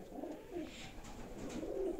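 Pigeons coo softly in a loft of nesting compartments, a continuous low, murmuring chorus from several birds that sounds close.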